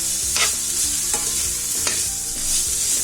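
Already-cooked chicken filling for buns frying in a pan: a continuous close sizzle runs throughout, with regular scraping strokes of a spoon stirring the mixture about every three-quarters of a second.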